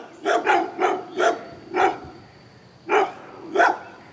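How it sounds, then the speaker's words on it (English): Dogs on a rural property pass by on a bike ride bark seven times in clear, moderately close, evenly spaced woofs, with a short pause before the last two, outdoors and without talk. "But if you stop, they will start barking."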